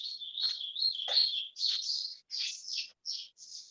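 Small birds chirp near a house in a rapid run of bright, high tweets, close and fairly loud, with short pauses between phrases and no talking.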